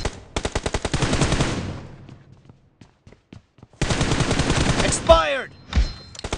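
Rapid bursts of automatic gunfire from a BGMI team deathmatch, a fast string of sharp shots opening loud, trailing off into scattered faint shots, then a second dense burst with chirpy game effects.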